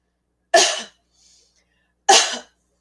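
A woman standing up gives two sharp, close coughs about a second and a half apart, with near silence between them.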